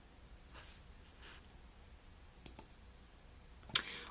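Quiet computer mouse clicks sound close in an otherwise hushed room, a couple of soft taps early on followed by sharper single clicks near the end.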